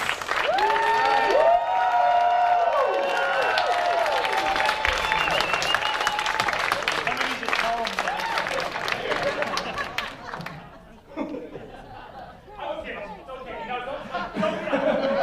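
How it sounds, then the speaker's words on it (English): A crowd at a student entrepreneur awards contest claps and cheers for a contestant, loud whoops and shouts over dense applause and chatter, thinning out toward the end into scattered clapping and voices. "Keep clapping. Stand up, just keep clapping."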